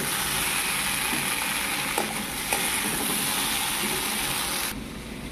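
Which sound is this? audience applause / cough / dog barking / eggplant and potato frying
eggplant and potato frying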